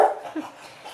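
A pet dog gives a short bark or yelp indoors at the start, moderately close, then the room falls quiet with faint background noise.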